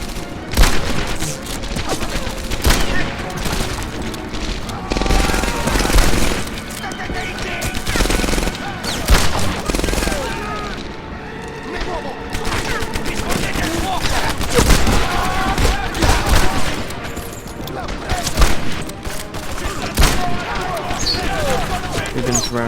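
Dense, continuous gunfire and explosions from the World War II shooter game Medal of Honor Airborne, with rapid machine-gun bursts, rifle shots and heavy booms layered throughout, loud and chaotic with no pauses.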